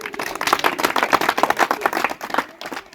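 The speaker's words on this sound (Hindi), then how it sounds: "चलो जोर से ताली बजाओ" Students at a World AIDS Day awareness programme at a government high school clap loudly together, a dense burst of applause lasting about three seconds before fading.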